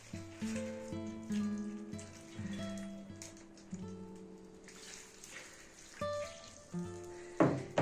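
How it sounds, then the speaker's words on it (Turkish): Meatballs fresh from the oven sizzle softly while a tomato paste sauce is poured over them, the frying hiss swelling in short bursts at close range over a quiet kitchen background. "Köftelerimiz hafif kızarmaya başladığı zaman fırından alıyoruz ve üzerine salçalı sosumuzu ilave ediyoruz."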